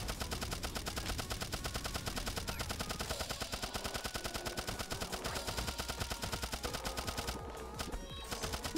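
Rapid continuous weapon fire from the video game Turnip Boy Robs a Bank, a steady stream of quick repeated shots over game music, with no voices.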